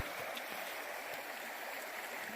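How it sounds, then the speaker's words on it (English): Laurel Fork Creek, a small stream beside a footbridge on an Appalachian Trail section, flows with a steady, soft, even rush of water, unbroken and without voices. "this is the Laurel Fork Creek. Beautiful little stream."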